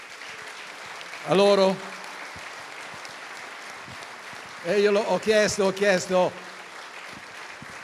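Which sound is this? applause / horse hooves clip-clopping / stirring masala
applause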